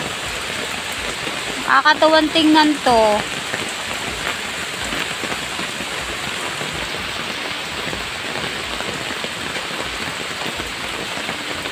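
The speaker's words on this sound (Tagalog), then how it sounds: "Ang lakas ng ulan guys, nakakatuwa." Heavy rain pours steadily behind a house while rushing runoff water flows nearby, a continuous dense hiss throughout, with a brief spoken remark near the start.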